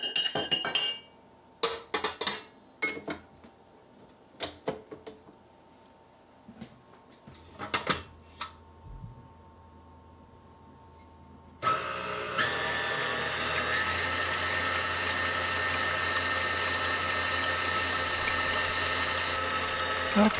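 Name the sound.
stand mixer with paddle attachment mixing pizza dough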